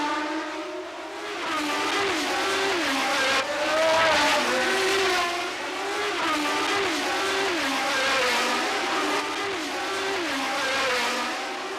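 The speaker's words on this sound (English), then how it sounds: "Scheckter used his pole position advantage and led up the hill and through Casino Square" Formula One race cars of the 1979 Monaco Grand Prix scream through the street circuit, engines rising and falling through gear changes as cars pass close and loud, with a steady engine drone throughout.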